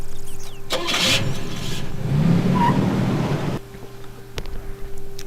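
Car engine starting in the video game Cold Zero, a mid-pitched motor catching and running steadily for a few seconds before cutting off, loud and close with no talk over it.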